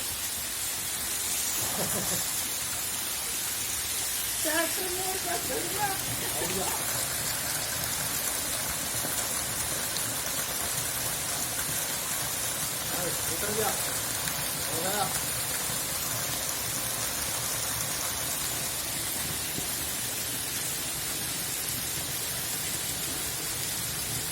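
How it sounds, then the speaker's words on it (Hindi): Heavy monsoon rain pours steadily in Narnaul, Haryana, a dense continuous hiss throughout, with a few brief voices faintly heard over it. "जोरदार बारिश, मूसलाधार बारिश।"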